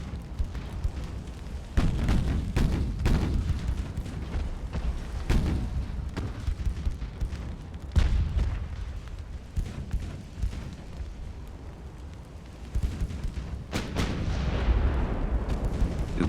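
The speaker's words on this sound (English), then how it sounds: "And there goes the torpedo." A torpedo launch during a naval battle in the game Ultimate Admiral: Dreadnoughts, set among repeated heavy booms and thuds spread irregularly over many seconds against a continuous rumbling backdrop.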